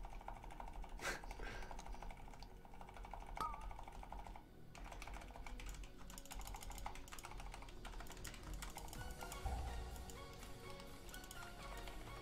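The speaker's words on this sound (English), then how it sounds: "Keyboard." A computer keyboard clatters softly with scattered keystrokes under a busy, noisy background during a World of Warcraft Tol Dagor dungeon run.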